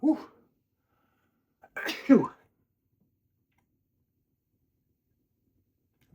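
A single sharp sneeze up close, followed by a short breathy exhale, with brief vocal sounds before and quiet around it.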